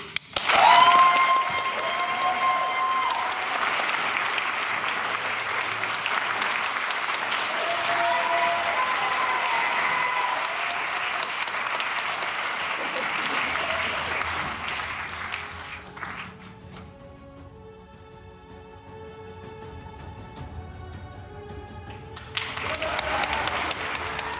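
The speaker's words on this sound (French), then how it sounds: "Écoutez le public de Juliette qui l'applaudit." An audience applauding a hairdressing contestant at a competitive evening event, sustained crowd clapping and cheering that fills most of the stretch, softens midway under music, then swells again near the end.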